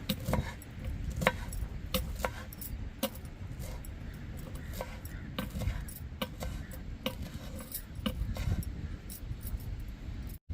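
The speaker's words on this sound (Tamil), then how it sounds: "இப்போ கொஞ்சோண்டு மல்லி இலையை எடுத்து கட் பண்ணி வச்சுக்கிடுவோம்" Coriander leaves being chopped with a knife on a board, a series of sharp, irregular close-up taps and knocks over a low background rumble, quiet overall and without speech.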